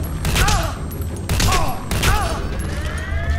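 Gunfire in Metal Gear Solid V, with bursts of shots and heavy thuds in repeated clusters, loud and close, and whistling tones sweeping over the top.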